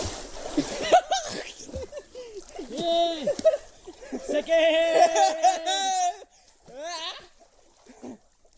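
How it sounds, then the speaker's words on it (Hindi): People splash in a swimming pool at a resort, with bursts of water splashing mixed with laughter and lively talk and shouting throughout. "भाई स्विमिंग पूल में नहा रहे हैं, स्विमिंग पूल में।"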